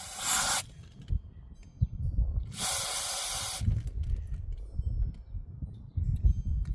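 Cleaner sprayed in two short, loud hissing bursts onto the mass air flow sensor of a 2018 L5P Duramax, each lasting under a second to about a second, with quieter handling noises between.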